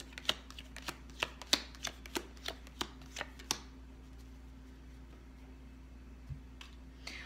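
Playing cards being shuffled close up at a tarot reading, a quick run of about a dozen crisp riffle snaps over a few seconds, then near silence with a faint tap, no voices.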